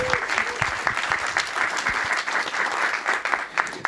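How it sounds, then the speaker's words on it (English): Crowd applause at an evening startup pitch event in New York, continuous dense clapping with sharp individual claps standing out, sustained at an even level throughout. "So give him a big applause,"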